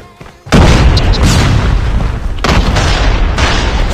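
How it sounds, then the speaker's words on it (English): A bomb drop in the mobile shooter game COD Mobile lands with a sudden loud boom after a brief quiet lead-in, then rolls into sustained, dense explosive rumble and crackle that keeps going to the end. "Bomb dropped."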